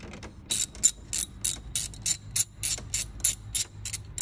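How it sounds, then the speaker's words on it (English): A hand ratchet loosening hardware on a Durango 392 SRT during a cold air intake install, clicking in about a dozen rhythmic bursts of rapid metallic ticks, close and clear, no talk. "we're gonna go ahead and take off our hardware"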